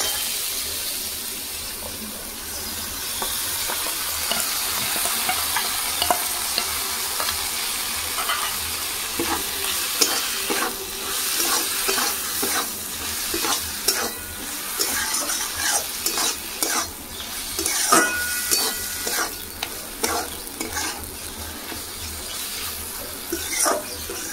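Prawn filling with cumin and poppy-seed paste fries in a pan, a steady close sizzle broken by scraping stirs and clinks throughout, no speech.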